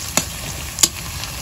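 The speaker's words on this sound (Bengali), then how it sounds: "পেঁয়াজ কুচি এখন দিয়ে দেবে তেলের ভিতরে। আমরা হালকা করে ভেজে নেব।" Chopped onions frying in oil in a pan while cooking chicken khichuri, a steady faint sizzle with two brief louder bursts, no talking.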